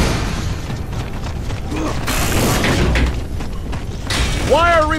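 Wire fortification being repaired in a Gears of War 3 Horde match gives a mechanical ratcheting, creaking clatter, steady and fairly loud, with a voice briefly heard near the end.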